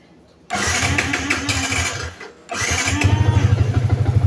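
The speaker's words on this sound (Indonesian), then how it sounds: "dan kita coba double starter teman-teman" A motorcycle is started using both starters after a battery check at 12.6 volts: the starter whirs, the engine catches and runs briefly, dips, then restarts and settles into a close, pulsing idle.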